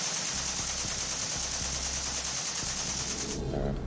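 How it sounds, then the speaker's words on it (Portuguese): AK-47 rifle firing a rapid, continuous automatic burst of sharp repeated shots, loud and close, lasting several seconds before cutting off. "Esta página, por exemplo, oferece um fuzil AK-47, capaz de dar 600 tiros por minuto."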